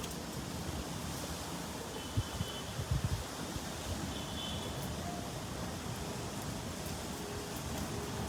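Very strong wind blowing outdoors as a steady, dense rush of noise with a few brief low gust thumps near the middle, constant throughout and free of speech.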